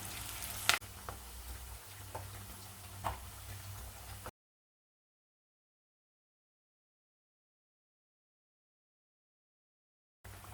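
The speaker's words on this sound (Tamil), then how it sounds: "எண்ணெய் காய்ஞ்சதும் ஒரு வடையாக சேர்த்து ரெண்டு பக்கமும் செவக்க வேக வச்சு எடுத்துக்கலாம்" Vazhaikkai (raw banana) masala vadas deep fry in hot oil with a soft, steady sizzle and a few sharp ticks for about four seconds, then silence until a brief return of frying at the end.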